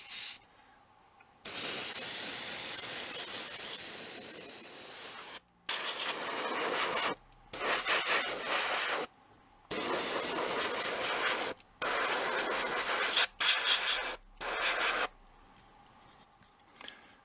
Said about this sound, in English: Next up is a layer of Alclad Aqua Gloss.